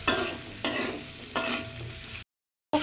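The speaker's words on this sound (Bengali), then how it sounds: "খুব সুন্দর করে উস্তেগুলো ভাজা হয়ে গেছে" Bitter gourd frying in a pan with salt and turmeric sizzles steadily, broken by three scraping stirs about half a second apart, then a short silence before a final stir.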